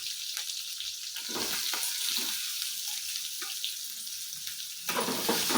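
Ginger, garlic, green chillies and onion fry in a hot pan with a steady, close crackling sizzle, joined by a few soft stirring clatters and a brief louder burst near the end.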